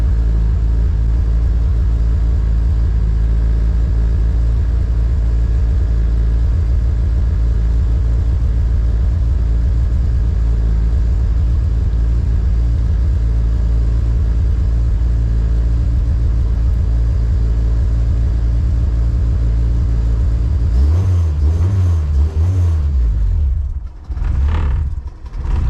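A Honda K24 engine in a project car fires up on its first start and idles cold with a loud, steady low rumble, then revs and stumbles near the end, surging and dipping as it tries to hold idle without an idle air control valve.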